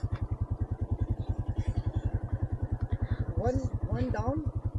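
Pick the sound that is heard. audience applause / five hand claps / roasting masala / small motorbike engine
small motorbike engine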